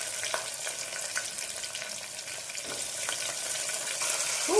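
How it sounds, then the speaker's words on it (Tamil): Small shallots sautéing in a pan for cluster beans kulambu, a steady close sizzle with occasional soft stirring scrapes throughout. "இப்போது வெங்காயம் ஓரளவு நல்லா வதங்கிட்டோம்."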